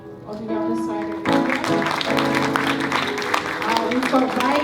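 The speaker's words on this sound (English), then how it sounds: "Everyone can go and clap." A congregation at a praise and worship gathering breaks into dense clapping about a second in and keeps it going steadily to the end, with a voice speaking over the applause.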